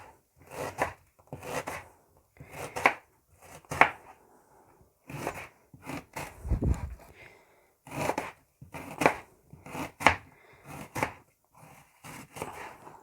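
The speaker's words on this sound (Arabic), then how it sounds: "عندي بصلايه هنا كبيره هقطعها طرنشوط" A knife chops a large onion into slices on a board, a run of quick rhythmic blade thuds falling in clustered bursts with short pauses, close and distinct.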